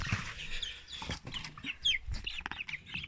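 Chickens cluck and squawk close by, a busy run of short overlapping calls with a few rustling sounds, no voices.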